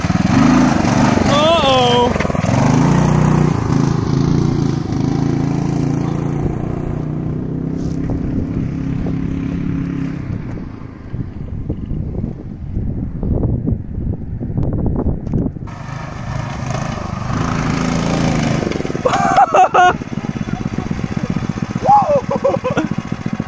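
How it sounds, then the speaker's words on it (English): A minibike with a 10 horsepower big block Tecumseh engine runs loud and close, revving up and down and fading as it moves away before roaring back near. The engine pulses unevenly in an open outdoor setting, with brief talk over it. "we're gonna test this thing out and show you the power of this 10 horsepower big block Tecumseh."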